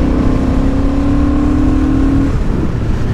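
Honda Hornet 750 motorcycle accelerating hard from low speed, a loud steady engine note rising in pitch for about two seconds before easing off, with strong wind and road rumble throughout.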